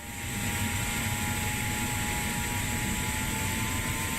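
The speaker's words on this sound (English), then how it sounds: "We've got engine number 2 coming to life. You guys hopefully can hear it very, very well." Airbus A330 engine number 2 spooling up during start in a flight simulator, a steady loud jet roar with a high whine holding evenly throughout, no talking.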